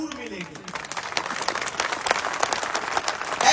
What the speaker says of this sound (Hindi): मैं चाहता हूं झुंझुनू के नाम की जोरदार तालियां होनी चाहिए एक बार